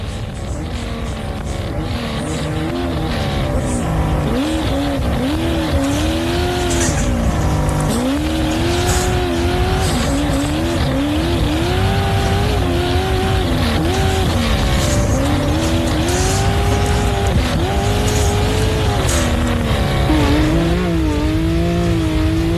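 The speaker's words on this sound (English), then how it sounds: "Sounds like a turbo car through the window." A turbocharged off-road race car engine at the Loveday 4x4 Adventure Park, heard through a window, drones and revs continuously, with pitch climbing and falling in repeated surges.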